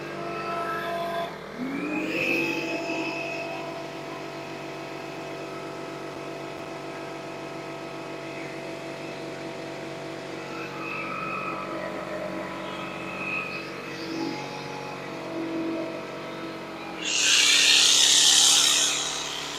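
An air compressor powered by an EGRETECH Sonic 2200W portable power station drones steadily up close, its pitch wavering slightly under load, before a louder hissing burst near the end.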